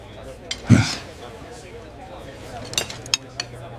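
Silverware and dishes clink in the Alcatraz prison mess hall: one clattering burst, then a few scattered, sharper clinks over a low background murmur.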